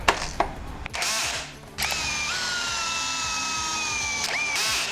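A 20V impact drill at maximum torque drives a sheet-metal screw into wood: a loud, steady whirring motor with a high gear whine and short rattling impact bursts, stopping and restarting close to the mic.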